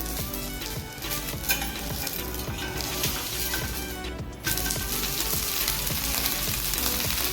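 A fasting dosa made for a Mahashivratri fast sizzles steadily in a hot pan, a dense, continuous frying hiss that stays loud throughout with a brief dip near the middle.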